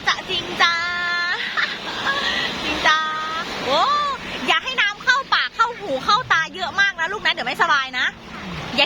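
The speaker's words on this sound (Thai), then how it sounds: "เนี่ยคลื่นแรง สูงเท่าแค่ขานะ" Strong sea waves wash onto a beach as a continuous rushing hiss, mostly under the frequent talk of a child and an adult nearby.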